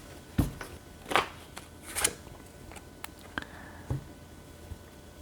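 Tarot message cards are shuffled and drawn by hand, giving a few soft, scattered riffles and flicks with quiet pauses between them, close by.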